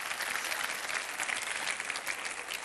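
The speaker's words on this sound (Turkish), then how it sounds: "Alkışa bak." Studio audience at a Turkish TV talk show breaks into dense, steady applause that fills the whole stretch at an even level, with no voices on top.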